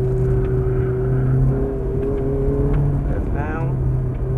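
Exotic car on a racetrack, its engine droning steadily at a sustained pitch and then rising briefly, loud and close with an instructor's voice over it.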